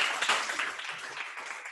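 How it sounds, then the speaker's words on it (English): Audience clapping at a Rotaract club board installation ceremony in Kampala, a brief burst of many hands that starts strong and gradually thins out. "Please clap"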